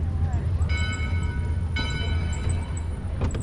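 The Yosemite Mountain Sugar Pine Railroad train rolling down the track, a continuous low rumble of wheels and cars with a sustained horn-like tone sounding twice, under light background voices.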